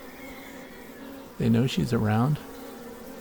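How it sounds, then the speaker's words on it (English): Honey bees fan at a hive entrance where a two-queen swarm is being hived, a steady insect hum running throughout with a nearby voice talking over it midway. "the other bees are all fanning around."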